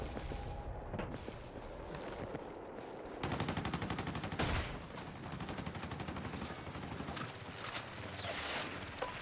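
Sustained gunfire from Battlefield 6, dense automatic bursts with sharp single shots and a few heavier booms, loud and continuous throughout with no pause.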